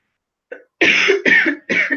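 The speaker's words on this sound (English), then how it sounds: "God damn this cough." A small throat sound followed by three harsh, close coughs in quick succession, loud and raspy.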